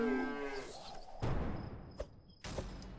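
A cow lets out a single low, drawn-out moo, followed by a few dull thumps and knocks nearby, with no talk.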